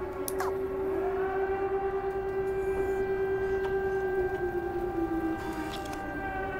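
A long, steady wailing siren in the game Stray, a held tone that dips slightly near the end, loud and constant over a low rumbling background with no talk.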